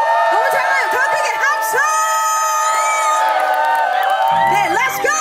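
A concert crowd cheers and shouts in unison at a Korean soul vocal show, loud sustained whoops and high yells from many voices close by, tapering near the end.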